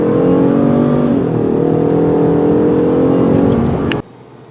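A 2021 Ford F-150 3.5L hybrid pickup accelerating hard with wheel spin, a loud close engine drone rising in pitch with a brief dip, then cutting off abruptly near the end.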